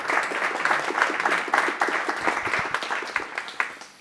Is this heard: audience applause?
yes